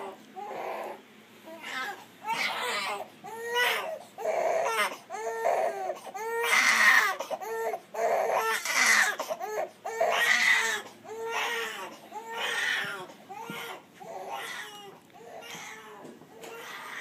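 A young boy crying and fussing at bedtime, with repeated wailing sobs and whimpers in uneven bursts that rise and fall throughout, close and fairly loud, with no adult talk.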